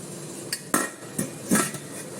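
Metal lid set down on an idli steamer pot on a kitchen stove, giving a few sharp clanks and rattles at irregular intervals, close and fairly loud, with no talk.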